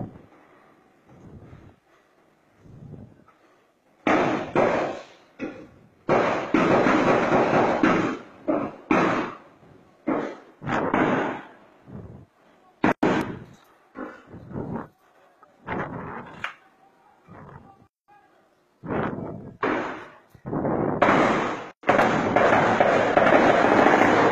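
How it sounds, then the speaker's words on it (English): Gunfire at the gates of a house in Nigeria during an army raid: a long series of loud, sharp cracks and bursts, some in rapid clusters and some isolated, close and harsh, with faint voices between them. "They are at his gates, firing weapons, firing guns."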